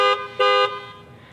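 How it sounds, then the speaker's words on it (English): A 2018 Chrysler 300S panic alarm sounds the car's strong horn in two loud, close blasts, one short and one longer, with the second fading into a brief ringing tail. "it's basically just going to beep the horn, flash the lights, but it has a really strong horn"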